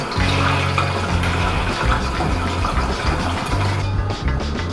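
A cup of water poured into a cooking pan of chicken tikka masala, a steady close rushing splash lasting a few seconds and fairly loud, with no talk over it.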